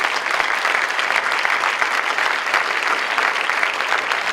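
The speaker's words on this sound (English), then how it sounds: "give yourselves a round of applause" Steady, dense applause from an audience at an MLK celebration, a continuous wash of clapping filling the room, with no talk over it.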